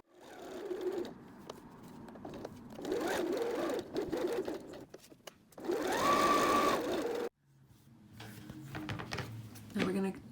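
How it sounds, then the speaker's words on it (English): A sewing machine stitches fabric seams in several bursts of whirring, stopping and restarting between runs, close up, with a voice speaking over parts of it. "we're going to be sewing the two sides and the bottom."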